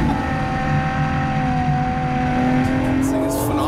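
A 2014 Ferrari LaFerrari driven hard on a race track, its engine note holding a strong steady tone and then shifting pitch as the car accelerates, loud and close with a hint of tire noise.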